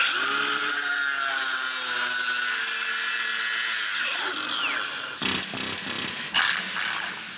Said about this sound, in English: we're just gonna have to cut right through the bushing and the bolt